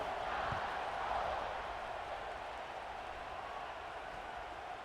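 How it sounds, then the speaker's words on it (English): A stadium crowd in the EA Sports College Football video game, where Alabama is playing, keeps up a steady, dense roar for the whole stretch, loud and continuous with a slight swell near the start. "this crowd is buzzing after that last score"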